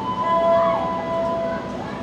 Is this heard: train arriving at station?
yes